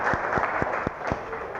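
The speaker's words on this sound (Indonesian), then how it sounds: "Tepuk tangan buat Atep." A small group of students claps briefly in a classroom to praise a classmate for a correct answer. The clapping is moderately quiet and comes in steady, evenly spaced unison beats.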